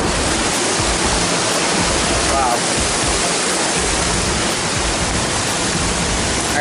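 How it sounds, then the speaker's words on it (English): Glawe waterfall and river in Kendal, Central Java, roaring as a steady, dense wash of rushing water close by, with a man briefly exclaiming over it. "Look at the water in here, the river."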